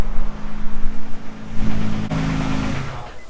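A Nissan 350z engine idles unevenly nearby after an engine swap, its rumble pulsing and lurching with a rough, uneven tone.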